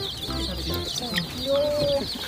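Chicks and chickens at an animal petting zoo give soft clucks and short chirping peeps at close range, while a person talks nearby.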